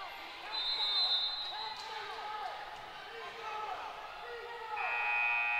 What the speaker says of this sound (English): Turner almost beat the buzzer